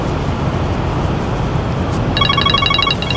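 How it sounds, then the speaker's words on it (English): A phone ringtone chimes in repeated bursts over steady road rumble inside a moving truck cab, starting partway through and continuing to the end. "here come my phone ringing."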